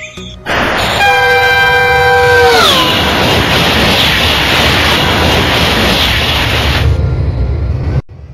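A train in the Euro Train Simulator 2 game sounds a loud multi-tone horn for about two seconds, its pitch sliding down at the end, then a steady heavy rolling rumble continues alone until a sudden stop.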